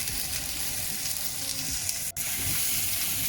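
Chicken patty pieces sauteing in hot ghee or oil in a pan, a loud continuous close sizzle with faint stirring underneath and one sharp momentary break partway through.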